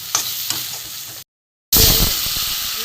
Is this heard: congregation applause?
no